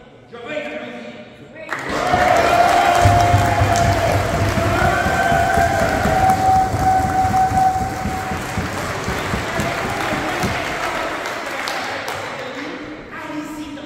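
Applause rises from an audience at a Saint-Denis remembrance event, a dense steady clatter of many hands that swells in after a quiet start, holds for about ten seconds and tapers off.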